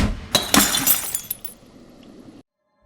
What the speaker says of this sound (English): to give a feeling of the crystal shards falling on the ground